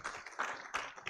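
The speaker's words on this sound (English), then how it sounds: "kindly give them a round of applause" Audience applause at a Pharmaceutical Society of Nigeria public lecture, a dense wash of many hands clapping steadily, swelling in a few waves, fairly near and with no talk over it.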